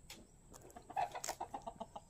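Hens cluck in a close, steady run of short repeated calls, rising a little louder midway, with no voices over them.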